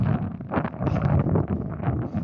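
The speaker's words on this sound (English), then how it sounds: "I know, I'm sorry, it's windy." Gusts of wind buffet the microphone in loud, rumbling bursts that rise and fall unevenly during an outdoor 20-mile run.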